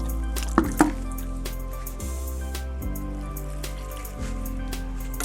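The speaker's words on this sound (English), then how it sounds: "I'll just water all of them" Garden plants in a backyard bougainvillea patch being watered: a couple of sharper splashes early on, then soft, irregular drips and trickles over a steady low hum.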